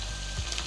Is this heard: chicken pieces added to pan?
yes